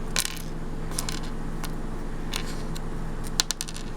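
Dried rose hips, dehydrated for six hours at 135 in an Excalibur dehydrator, rattle and click in several brisk bursts of small hard tapping, close and fairly clear over a low steady hum.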